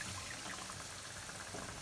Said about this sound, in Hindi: पानी डाल देबै।